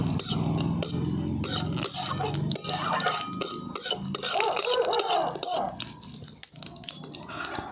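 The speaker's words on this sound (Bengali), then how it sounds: "রসুনগুলোকে কিন্তু খুব ডিপ ফ্রাই করে নিতে হবে। একটু লাল লাল করে ভেজে নেব।" Garlic deep fries in hot oil with a dense bubbling sizzle and busy crackling, interrupted by metal utensil clinks and stirring against the pot, close and fairly loud.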